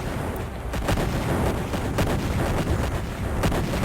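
Rumbling blasts and crackling booms roll on continuously, loud and dense, like a heavy explosion with debris and gunfire-style bursts in the space strategy game Imperium Galactica.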